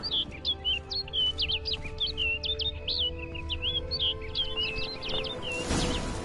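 Bird calling in The Witcher 3 game world: a steady run of bright, quick chirps and tweets repeating over a low ambient hum, with a brief whoosh near the end.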